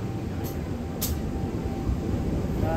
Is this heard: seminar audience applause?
no